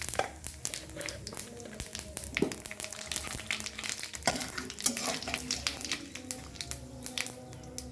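Bay leaves and whole cumin seeds sizzle in hot oil in a pan, a steady crackling fry, with scattered clinks and scrapes of stirring and cookware.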